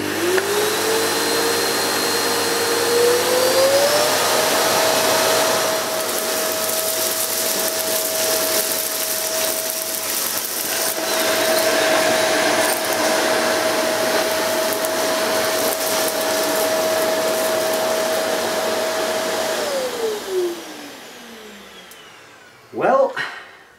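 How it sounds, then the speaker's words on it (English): A Hoover Eco G Telios TTG1100 vacuum cleaner runs on its maximum setting, a steady loud whine with a rising motor tone that holds for about twenty seconds, then winds down and stops with a few knocks at the end. "I'm going to use the machine on its maximum setting"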